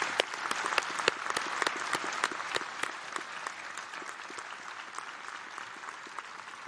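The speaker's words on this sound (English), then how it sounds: "I want all of you to give them a gigantic round of applause" A large graduation audience at a business school ceremony gives a long, sustained round of applause, dense claps filling the hall steadily from start to finish with no talk over it.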